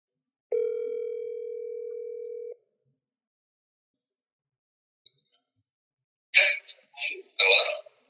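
A phone call rings out with one long, steady ringback tone, followed by silence and then a few brief voice bursts as someone picks up.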